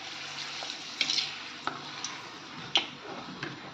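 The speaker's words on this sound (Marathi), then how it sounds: "आता मी तुम्हाला पापड तळून दाखवते" A wheat-and-rice papad fries in hot oil, a soft bubbling hiss broken by scattered sharp crackles and pops, fairly quiet and close with no speech.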